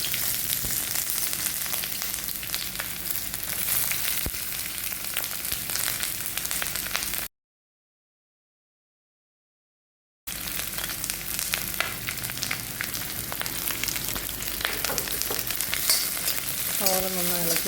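Onion frying in hot oil with star anise and cinnamon for a chicken kurma, a steady dense sizzle with stirring scrapes, broken by a short silent gap before the frying resumes and continues.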